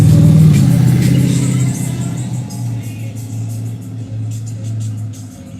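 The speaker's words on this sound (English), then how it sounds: "He got a big ass supercharger on that motherfucker." A car fitted with a large supercharger revs loudly close by, a strong low engine drone that eases from a heavy opening burst into a steady rumbling idle.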